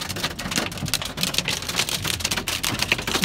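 Good-sized hailstones pelting down in Arizona, a dense, uneven barrage of sharp impacts on hard surfaces, close and steady throughout without voices.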